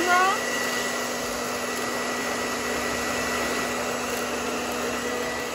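A hair dryer blows steadily and loudly at close range while shrinking plastic wrap over an Easter basket, a constant whooshing hum with a faint tonal whine throughout.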